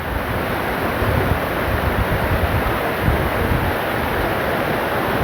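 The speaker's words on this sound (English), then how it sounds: "Just look at the effect of this water." Dangerous flood water rushes past in a steady, loud, broadband roar with wind buffeting the microphone, continuous and without voices.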